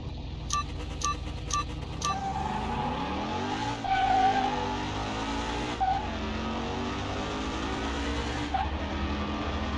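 Chevy Turbo Fire V8 race cars in Car Mechanic Simulator 2021, a 1957 against a 1961, with engines revving and tires squealing in long sweeping tones, a few sharp bursts near the start, steady and fairly loud throughout.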